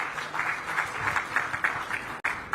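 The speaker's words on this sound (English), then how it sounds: "Can we please have a big round of applause for them once again?" Audience at a health awards ceremony applauding the sponsors, a moderately faint, steady patter of many hands clapping in a large room, ending in a brief break.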